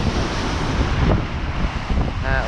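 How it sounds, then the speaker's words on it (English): Stormy sea waves surge against the Blackpool seawall, with heavy wind buffeting the microphone. The noise is a loud, continuous roar of surf and gusting wind, with no voices. "you can see there the storm's forcing right up against the wall and curving in."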